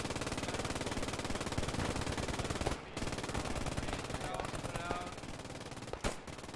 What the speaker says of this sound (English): Putting down an impressive amount of suppressive fire on the Americans.